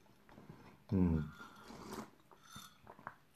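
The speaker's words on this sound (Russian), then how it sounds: "Я извиняюсь за чавканье." Someone eats a salad close to the microphone, with a loud crunchy bite followed by softer wet chewing and smacking in a quiet room.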